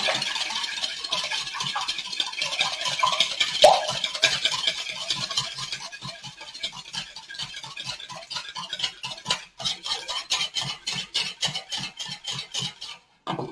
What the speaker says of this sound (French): Je vais prendre mon fouet et je vais mélanger ces ingrédients-là